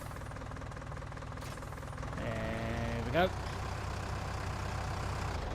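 A tractor engine in Farming Simulator 19 runs steadily at a low, droning idle, with a brief revving rise partway through, underneath a short remark from a man.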